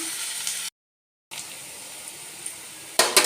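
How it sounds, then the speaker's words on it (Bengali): Onion frying in oil in a wok gives a soft, steady close sizzle, broken by a short silent gap and ending with a brighter crackling burst. "কড়াইতে তেল দিয়ে পেঁয়াজটা ভেজে নিচ্ছি।"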